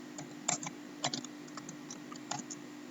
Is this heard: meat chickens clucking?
no